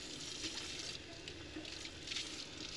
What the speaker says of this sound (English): I'm just going to rinse it out with some water.